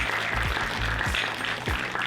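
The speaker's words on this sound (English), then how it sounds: "Give them a big round of applause." Audience applause for filmmakers at a film festival Q&A, an even wash of clapping with a few low thumps from handling noise mixed in.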